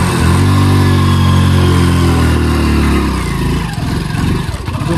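A motorcycle engine catches after a push start and runs loud and close, a steady mid-pitched putter with a throaty rumble that eases and turns rougher toward the end.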